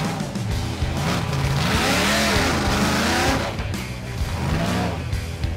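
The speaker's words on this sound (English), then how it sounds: "A lot of water, a lot of mud slinging off the tires" A Willys wagon plows through muddy water puddles, its engine revving loudly with rising and falling pitch while water and mud spray off the tires, a continuous close roar throughout.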